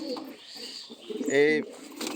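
A Madras pigeon, an aggressive, restless high-flying breed, gives a throaty coo that swells loudly near the end, with other soft bird sounds around it.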